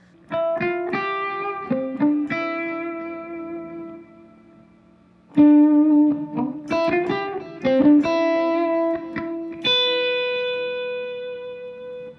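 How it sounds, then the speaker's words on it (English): An electric guitar, a Citizen Guitars CT, with mild overdrive plays single-note lead phrases, with sustained notes ringing out between quick picked runs. "I'm playing more lead lines, so I've got distortion on, distortion, light gain, basically."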